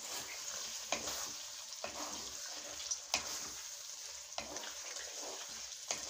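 Marinated chicken sautéing in a pan, a continuous close sizzle broken by repeated sharp scrapes and clanks of a spatula stirring at irregular intervals.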